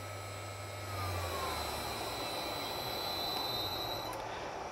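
An 18000 rpm spindle motor driven by an INVT GD10 single-phase inverter runs with a steady high whine and tonal hum, holding a constant pitch throughout with no talking.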